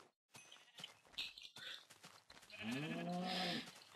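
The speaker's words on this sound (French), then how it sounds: "je vais taper les moutons pour qu'ils nous donnent de la laine" Sheep in the Minecraft survival game let out a loud, drawn-out bleat near the end, after a run of soft clicks and footstep-like taps.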